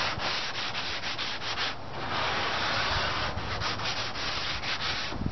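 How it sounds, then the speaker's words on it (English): A sanding block rubs steadily back and forth along the rough edge of a 1935 Ford convertible sedan door panel, making a continuous close gritty scraping with a few brief pauses. "I just take a sanding block and go over it like this."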